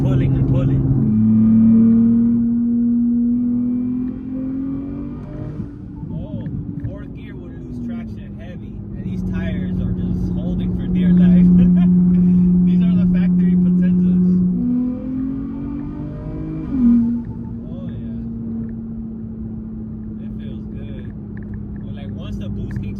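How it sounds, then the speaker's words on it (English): A Nissan Z with upgraded turbos accelerates, its engine drone rising and falling through gear pulls, heard from inside the car at moderate loudness with people talking over it. "This thing sounds like a freaking GTR."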